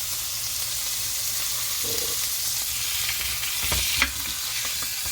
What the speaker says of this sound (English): you just hold the steak up with the spatula and cook it